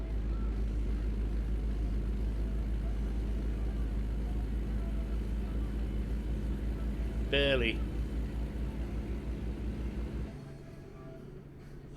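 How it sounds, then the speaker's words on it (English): Truck engine in the video game American Truck Simulator, a steady low droning hum that runs loud and unbroken for most of the clip, then drops off sharply near the end, with a brief spoken word over it. "I'll turn the truck noise off."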